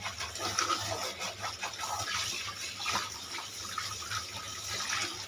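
Steady running water splashes over a money plant being washed in a kitchen, a continuous close gush with no talk.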